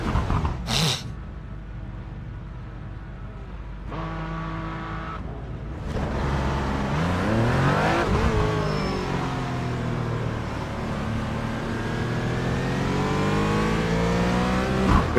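GT racing cars including a BMW, a Porsche and a Mercedes in iRacing, engines climbing steadily through the gears at close range, with a brief sharp burst near the start and other cars droning nearby.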